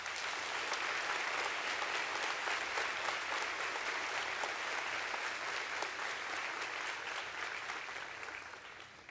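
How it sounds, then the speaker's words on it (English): A school veterans assembly audience gives a sustained round of dense, steady applause that holds for about nine seconds and thins slightly at the very end. "Please give them one more round of applause, please."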